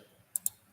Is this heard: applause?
no